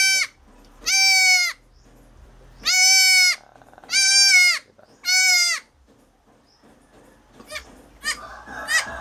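Goats on a farm let out four loud, drawn-out bleats in slow succession, close by and clear against a quiet background, followed by softer scattered rustling and faint noises.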